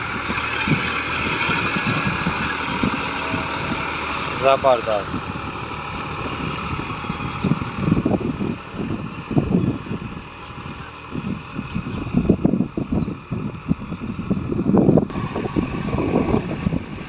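MF 260 tractor engine runs steadily while pulling a harrow disk, a continuous loud rumble with fluctuating load, and someone speaks briefly over it.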